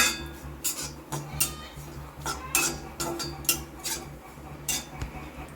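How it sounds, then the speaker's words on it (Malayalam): Coriander and turmeric powder are stirred in an iron pan, with a spoon scraping and clinking against the metal in a quick, repeated rhythm, close and clear. "ഇത് നമുക്ക് ഇട്ട് കൊടുക്കാം നല്ല നിളക്കി എടുക്കണം ഇരുമ്പ് പാത്രമായിട്ട്"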